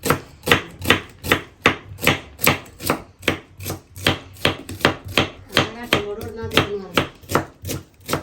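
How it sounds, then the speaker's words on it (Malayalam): Onions chopped with a knife on a board at a home biryani cooking session, a loud close run of evenly spaced thuds with a brief voice near the end. "നമ്മൾ ഉള്ളി വെട്ടി കൊടുക്കട്ടെ"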